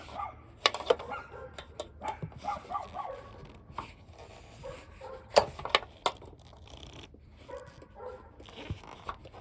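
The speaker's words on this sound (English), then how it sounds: "Hey, the dogs are coming." Dogs bark and yip intermittently at a moderate distance outdoors during work on a Honda Element fender, sharp scattered barks over a quiet background with occasional clanks.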